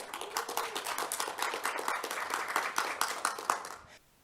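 A small audience claps during a debate on Canada's Bill C-16 with a dense, uneven patter of hands that is fairly close and loud, then tapers off abruptly near the end.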